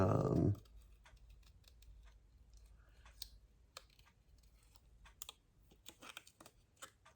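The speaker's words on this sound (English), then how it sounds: "I'm gonna try to fussy cut this very" Scissors fussy cutting around a paper sticker for a scrapbook layout, giving irregular close snips and clicks that grow busier toward the end, quiet with no talking.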